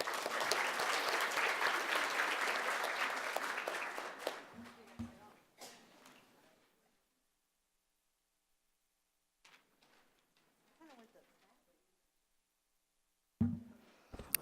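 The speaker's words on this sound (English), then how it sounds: "So please clap your hands together for a round of applause." Audience applause at a young women's career conference, welcoming a keynote speaker: loud, dense clapping for about four seconds that fades out, followed by near silence with a few faint rustles and knocks.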